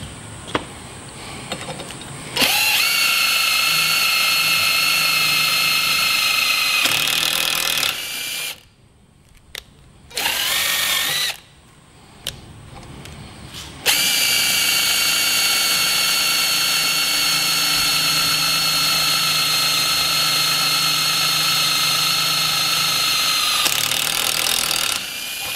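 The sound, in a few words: cordless drill running a thread tool in a vise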